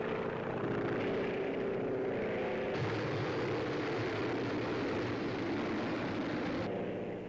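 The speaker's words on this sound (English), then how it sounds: "Roaring in over the beaches, movie camera planted squarely in the nose of a bomber" A WWII bomber roars in over the beaches on a daylight raid over Nazi-occupied France, a continuous droning engine roar, steady and loud, on a vintage newsreel soundtrack with no talk.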